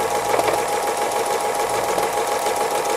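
A sewing machine doing free motion embroidery of a harvest squirrel design runs in a fast, steady whirring stitch, loud and close, with no talk.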